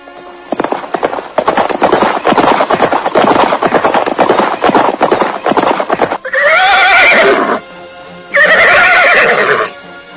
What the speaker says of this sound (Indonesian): Derap kaki kuda terdengar nyaring, membelah suasana hening dan sepi